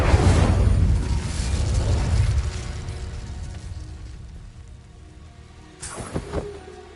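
Incendio fire spell cast in the Hogwarts Legacy video game: a loud, roaring burst of flame that slowly fades, then a second short, sharp fiery blast near the end.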